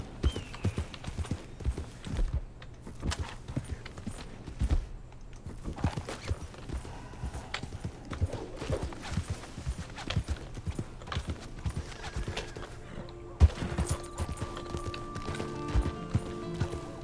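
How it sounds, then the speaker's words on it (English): A horse's hooves clip-clop steadily and up close in the video game Red Dead Redemption 2, with a brief whinny and occasional thuds and mechanical sounds mixed in. "This horse is still here."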